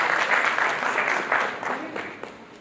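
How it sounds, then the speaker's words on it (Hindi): Listeners at a national summit in Delhi clap to welcome a retired Air Force flying officer, a brief burst of crowd applause that swells and then tapers off. "जोरदार तालियों से स्वागत करिए सरकार नंद किशोर प्रसाद जी"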